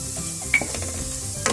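Spinach curry with paneer, cumin and garam masala powders is stirred in a hot pan: a brief close sizzle broken by a couple of scraping strokes and a light utensil knock.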